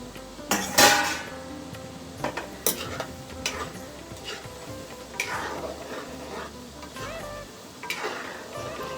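Gulab jamun dumplings frying in hot oil while being stirred, a steady close sizzle broken by repeated clinks and scrapes of a spoon against the pan.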